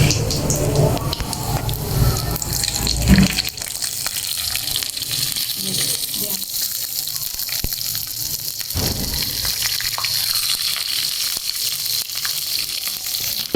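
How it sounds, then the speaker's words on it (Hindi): Hot oil tempering poured into yogurt sizzles and gushes loudly at first, then settles into a softer steady crackle and hiss with a few clinks, no talking. "अब इस तड़के को मैंने इस दही में डालना।"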